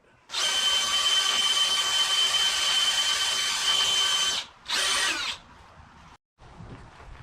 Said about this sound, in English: We'll go ahead and set that. That way we know where to drill the next piece